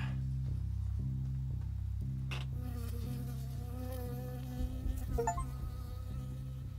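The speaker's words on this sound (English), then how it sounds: "We got stung by a bee." Buzzing insect in the Firewatch video game, a bee droning steadily and loudly up close in pulsing bursts, alone with no voices, before a brief clatter near the end.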